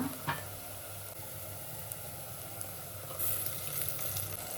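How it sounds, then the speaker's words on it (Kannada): Ground masala frying with browned onions in oil for a fenugreek leaf bath, a soft, steady sizzle with occasional light stirring clicks and a slightly louder spurt near the end. "ಮಸಾಲೆ ಎಲ್ಲ ಚೆನ್ನಾಗಿ ಹಸಿಟ್ಮೇಲೆ ಹೋಗೋವರೆಗೂ ಫ್ರೈ ಮಾಡ್ಕೊಳ್ಳಿ"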